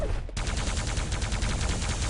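Rockets strike in rapid succession in a Quake Live match, a dense, loud barrage of explosive bursts after a brief gap, with no talk.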